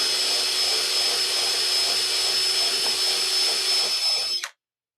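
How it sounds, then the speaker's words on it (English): A power drill bores a tuner hole in an acoustic guitar headstock, a steady whining motor drone running loud and close for about four and a half seconds before cutting off abruptly. "let's drill one more hole just to make sure"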